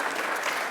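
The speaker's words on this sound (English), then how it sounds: "There might be another round of applause for that." Applause fills a conversation event with author Sandi Toksvig, a dense, steady wash of many hands clapping from the audience, sustained and fairly loud throughout the brief moment with no voices over it.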